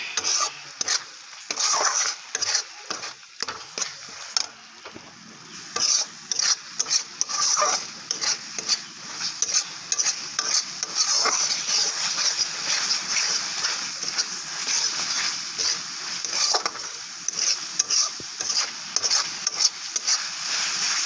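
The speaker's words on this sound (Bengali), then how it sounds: "এরপর আমরা মশলাটা খুব সুন্দর আমি কষিয়ে নিচ্ছি" Spice masala for paneer gravy fries in a pan while a spatula stirs it in a brisk, repeating scrape-and-knock rhythm, a low sizzle underneath, all up close.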